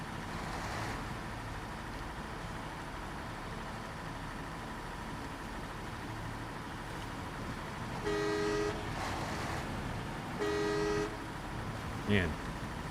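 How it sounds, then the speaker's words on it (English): Horn of a big truck in the SnowRunner game, with a deep, bus-like tone: two long blasts of about half a second each over a steady engine idle, followed by a short third toot. "Man, the horn sounds like a bus."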